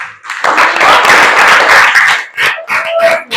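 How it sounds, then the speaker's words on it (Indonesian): A classroom of fifth-grade students claps together in a dense burst of close, loud applause that thins into a few scattered claps near the end. "Iya, bagus. Kasih tepuk tangan."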